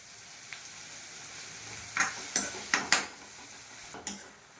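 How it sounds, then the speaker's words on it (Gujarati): Onions frying in a pan, with a constant soft sizzle under a run of sharp metal spoon scrapes and clinks against the pan, several strokes close together near the end, close up, no talking. "હવે આપણે ડુંગળી વચ્ચે ચડવા જઈશું"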